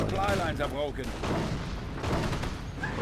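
Machine gun fire in a real-time strategy battle rattles at a Calliope rocket tank, short bursts booming close and loud beneath someone talking over them.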